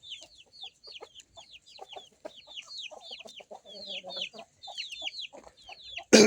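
Young chicks on a hot day make a steady stream of rapid, high peeping chirps. The peeps are close and overlapping, with a soft clucking undertone and a brief knock at the end.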